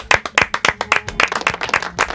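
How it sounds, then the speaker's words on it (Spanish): An audience applauding in a studio: brisk, uneven clapping from a small crowd, loud and close, lasting a couple of seconds. "Un aplauso para Alfredo"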